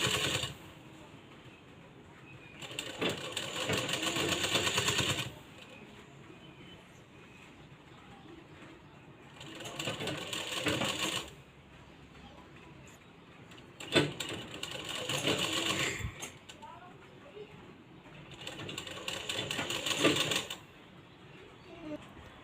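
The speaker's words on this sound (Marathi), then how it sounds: "आपण एकमेकावरती ठेवून जसा आकार आहे तसा पद्धतीनं आपण इथं शिलाई मारायची आहे" A sewing machine stitches a blouse fitting seam in three or four steady whirring runs of a few seconds each, separated by quieter pauses with handling noise, close and fairly loud.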